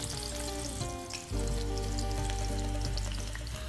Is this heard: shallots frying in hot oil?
yes